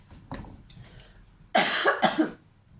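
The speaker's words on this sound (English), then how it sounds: "And now I'm going to cough" A couple of small throat sounds, then two loud, harsh hay-fever coughs in quick succession close by.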